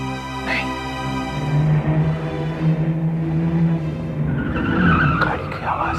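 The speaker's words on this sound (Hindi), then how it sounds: "गाड़ी की आवाज।" A car drives and skids with tyre squeal, loud and close over a rumbling engine, in a dramatic crime-drama scene.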